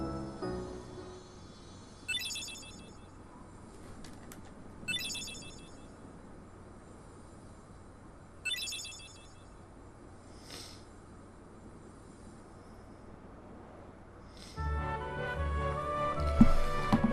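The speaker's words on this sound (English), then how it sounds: "That'd be the phone." In the Kingdom Hearts video game, a telephone rings in short, faint bursts spaced a few seconds apart over a quiet background, before louder game music swells in at the end.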